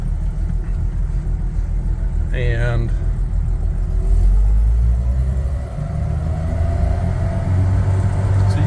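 Toyota FJ Land Cruiser barely creeping in low range, first gear, its engine rumbling low and steady from inside the cab, revs rising slightly, with a brief voice and a short squeak over the drone.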